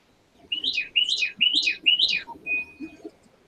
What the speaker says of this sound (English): he's got birds chirping in the background